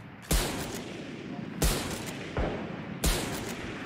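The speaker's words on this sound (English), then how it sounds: "Omen taking a couple of shots on Reyna here outside of Garage, C Garage" Shotgun blasts in the Valorant shooter game, three loud booming shots spaced about a second and a half apart, each trailing off in a long rumble.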